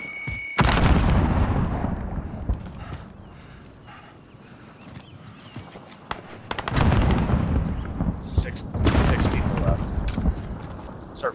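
A grenade blast in a battle royale video game lands with a heavy, booming low rumble, followed by sustained battlefield noise and a second loud burst of explosive rumble later on, with radio-style voices over the din.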